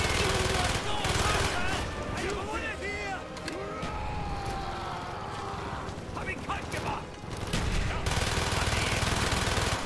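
Rapid, steady automatic fire from a low-recoil gun in Call of Duty: Black Ops, sustained bursts with mechanical clatter and battle noise, loud and near, continuing across the whole stretch.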